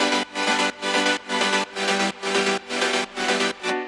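Synth chords from a progressive house track made in FL Studio, bright and full, struck in eight evenly spaced, sustained stabs with short gaps between them, loud and alone.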